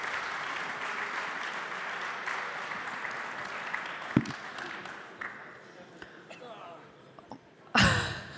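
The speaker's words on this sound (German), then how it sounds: "Danke für einen Applaus." An audience at a panel discussion applauds, a dense wash of clapping that gradually thins out and fades, followed by a couple of sharp knocks near the end.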